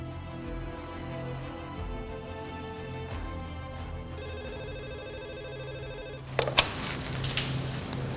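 A telephone rings in a repeating electronic pattern while someone calls a secretary. The tone is steady and moderately loud, and it shifts to a brighter, busier burst near the end.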